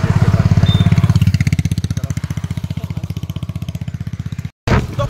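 A motorcycle engine thuds along with a fast, steady pulsing beat while riding on a mountain road, loud and close, briefly cutting out near the end before resuming.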